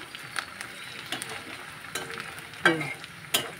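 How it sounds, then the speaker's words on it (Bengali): Chopped onion, garlic, cumin, bay leaf, cinnamon, cardamom and cloves sautéing in a pan, a soft, low sizzle with a few sharper stirring scrapes and taps, close by and without speech. "এবারে আমি এটা ভালো করে কষাবো"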